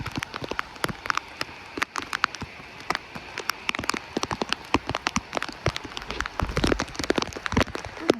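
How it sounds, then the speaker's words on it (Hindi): Heavy rain pattering on a hard surface nearby, with dense, irregular drops and sharp splats throughout. "बहुत तेज़ बारिश होने लगी है।"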